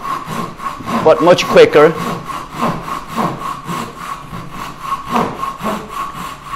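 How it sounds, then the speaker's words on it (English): A Ryoba Japanese pull saw makes rough, quick cuts into a wooden tenon, rhythmic rasping strokes close up and fairly loud, with a brief spoken remark over the sawing. "So this is a little bit rougher cut"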